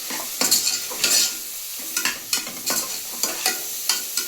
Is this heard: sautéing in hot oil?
yes